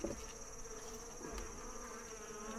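Honey bees buzzing densely around a hive box, a steady close drone with individual insects passing near, continuous and alone without speech.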